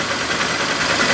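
A Honda CG 150 motorcycle engine runs loud and steady at close range during a battery charging test, holding a dense, even roar with no talk.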